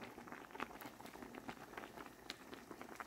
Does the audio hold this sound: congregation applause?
no